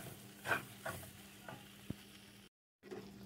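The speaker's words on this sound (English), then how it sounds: "it's all stirred around" Flour mixture being stirred in a cooking pan for mac and cheese, a few soft scraping strokes with a faint sizzle, quiet and close, broken by a brief cut to silence.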